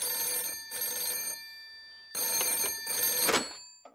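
A cartoon telephone rings in two clear bursts of bright, harmonic electronic trilling, separated by a short gap, close and loud with no talking.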